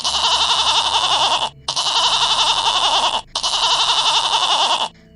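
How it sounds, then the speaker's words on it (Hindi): A goat bleats loudly inside a cave, three long wavering cries in a row separated by short pauses. "उन्हें बकरी की आवाजें भी आ रही थी।"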